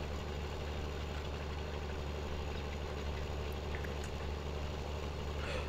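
A tractor engine labouring under load in Farming Simulator 2017 on the County Line map, a steady low drone with constant mid-range hum and no pauses throughout.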